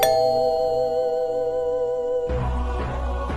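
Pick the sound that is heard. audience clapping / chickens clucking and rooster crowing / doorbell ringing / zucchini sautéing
doorbell ringing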